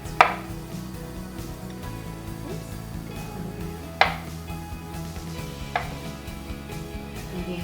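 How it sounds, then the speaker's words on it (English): A knife slices thinly through avocado on a cutting board, making a few sparse, distinct taps against the board spaced seconds apart over a low background hum. "I'm gonna slice the avocado a little thinner now."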